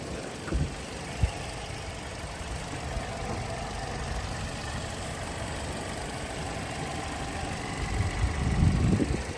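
A 2016 Toyota Corolla engine idles steadily at close range, a low continuous rumble with a couple of brief knocks and a swell near the end.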